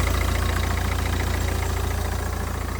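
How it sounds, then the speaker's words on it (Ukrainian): A 2014 turbocharged car engine idles smoothly with a steady low rhythmic throb, close and unbroken, with no voices. "Немає ніяких зауважень, працює гарно мотор"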